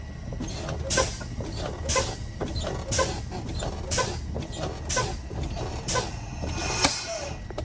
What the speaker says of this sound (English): I'm going to start fanning now.